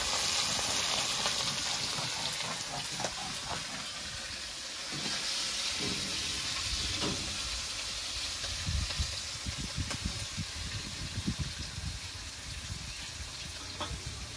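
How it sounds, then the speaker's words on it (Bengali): Pieces of rohu fish fry in hot oil in a kadai, a steady loud sizzle and crackle with scattered pops and the occasional clink of a utensil, with no voices. "মাছগুলো দিয়ে দিয়েছি, এখন ভাজা হতে থাকবে।"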